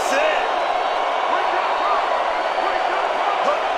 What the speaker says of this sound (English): Night crowd getting ramped back up again.